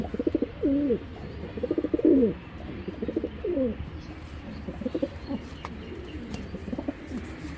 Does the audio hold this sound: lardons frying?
no